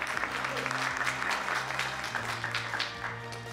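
An audience at a public broadcasting conference in Seoul applauds to welcome a keynote speaker, dense steady clapping filling the room for a few seconds before starting to thin.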